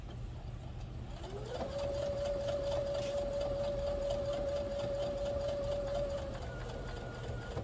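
A sewing machine runs a regular top stitch with an eighth-inch seam allowance on a baby bib, its motor whining at one steady pitch for about five seconds, close by, with no talking.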